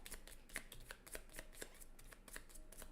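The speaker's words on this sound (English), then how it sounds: "they are going to shuffle" Cards in a deck shuffled by hand during a solo tabletop game of Earth, a quick run of soft crisp riffles and flicks at close range with no voices.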